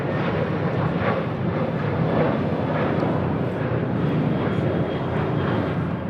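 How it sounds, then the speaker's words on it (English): Southwest Airlines Boeing 737-700 taking off at LAX, a broad sustained jet engine roar that stays loud and steady throughout, with no talk over it. "This is Southwest Airlines 1837 taking off to El Paso on a 737-700"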